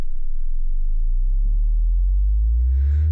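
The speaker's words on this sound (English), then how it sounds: "You can use these oscillators for modulation." Therevox ET-4.2 synthesizer oscillator producing a low, steady tone that slowly glides upward in pitch, with a brief soft noise burst near the end.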